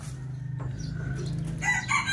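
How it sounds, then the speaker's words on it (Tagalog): A rooster crows in a rural home setting, a short strained call near the end following low clucking and background hum, fairly close and clear. "Tapos narito po yung ating manok."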